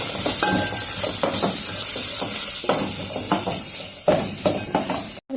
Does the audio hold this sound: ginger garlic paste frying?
yes